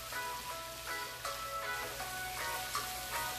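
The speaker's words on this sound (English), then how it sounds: "go in with our emok. And we're just gonna saute this around." Korean fish cake (eomuk) sautés in a slightly too-small pan for banchan, giving a steady, close sizzle and crackle of frying, with faint stirring scrapes and no talking.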